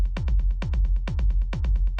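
Bassy kick drum for acid techno, driving hits with a long rumbling low tail and delay echoes trailing each beat, roughly four strikes per half second cycle, loud and up close with no voices.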